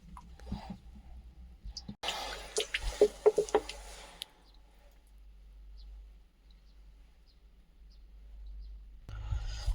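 Water trickles and splashes into a bottle at a low village spring in Uttarakhand, with drips, clicks and handling noises over a few seconds amid quiet outdoor ambience.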